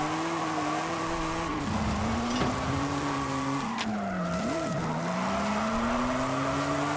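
A classic Maserati's engine in Forza Horizon 5 drones steadily in fifth gear as it struggles, with wavering pitch and tire squeal from spinning rear wheels throughout, loud and close.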